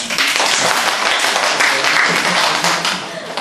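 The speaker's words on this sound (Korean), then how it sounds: "그래서 그 점에 저희는 정말 박수를 드리고 싶어요." Audience applause breaks out during a student's speech, a dense, steady patter of many hands clapping that fills the room for a few seconds.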